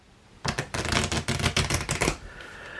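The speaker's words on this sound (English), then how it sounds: "we're going to shuffle them together." A quick riffle of playing cards being shuffled, a rapid burst of crisp flicking clicks lasting under two seconds, then quiet.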